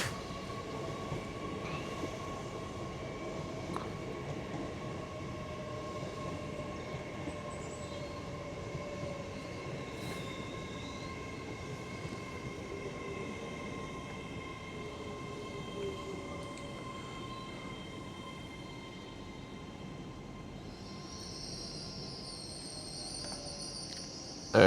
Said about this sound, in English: There it comes to a nice squeaky stop.